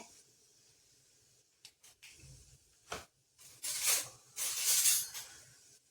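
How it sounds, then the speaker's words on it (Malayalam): Mustard seeds dropped into hot oil in a home kitchen pan sizzle and sputter. The start is quiet with a few isolated ticks, then louder hissing bursts of frying build up close by. "ഞാൻ എണ്ണ ഒഴിച്ചു കൊടുത്ത് ഇനി ഇച്ചിരി കടുക് ഇട്ട് കൊടുക്കാം"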